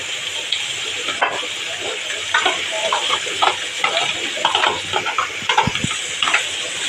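Radishes and spices stir-fried in a pan for a Bangladeshi radish curry, with a steady sizzling hiss and scattered scraping clicks of a spatula stirring through the pieces, close and moderately loud.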